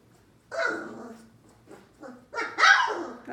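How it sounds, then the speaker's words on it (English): A young puppy from a three-week-old litter barks and yips in short bursts, with whimpering noises between them, close and fairly loud with no talking. "That's Mr. Black making the noises"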